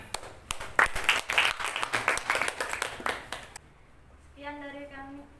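A short burst of clapping from a small group at a school gathering in Indonesia, mixed with a speaking voice, then fading out into quiet.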